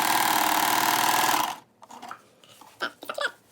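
Sewing machine stitching a pant seam straight over pins, a loud steady rapid whirring run that stops abruptly partway through, followed by quieter fabric handling and a few soft clicks.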